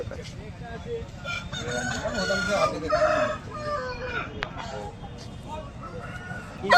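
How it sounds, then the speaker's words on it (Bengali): Chickens cluck and a rooster crows amid a busy crowd at a village poultry market, with people talking nearby and general market bustle. "এখানে হ্যাপি হ্যাপি সব মুরগি আছে"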